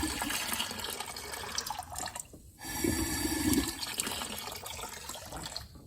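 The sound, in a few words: compressed air blowing coolant out of intake coolant plugs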